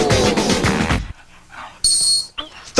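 A dog barks in a short comedic dog-training gag, a loud burst of barking and rough noise up front followed by quieter whimpering and sharp yips.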